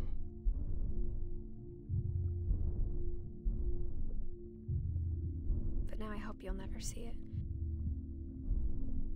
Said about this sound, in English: You can hear multiple heartbeats.